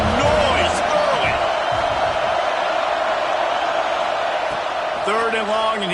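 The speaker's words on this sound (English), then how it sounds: "This crowd bringing the energy and noise early" Stadium crowd at a college football game between Ohio State and Indiana, a loud continuous roar filling the whole stretch, with a few whoops and voices rising out of the dense noise.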